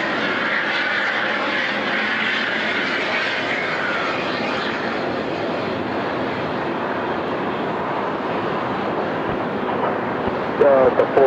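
A passenger jet takes off at Atlanta Hartsfield-Jackson airport, its engines a steady, loud broadband roar that holds for over ten seconds, with faint talk at the very end.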